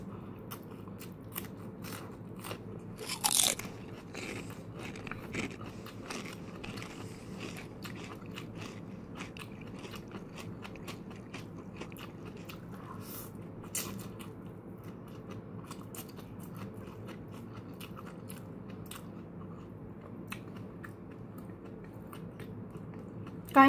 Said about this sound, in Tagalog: Kain po tayo ng sibuyas kasi maraming maibibigay ito.